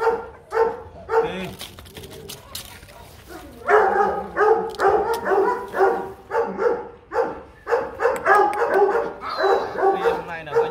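Rottweilers bark during a breeding session in Hanoi: repeated short barks and a few whimpers at moderate distance, mixed with someone talking throughout.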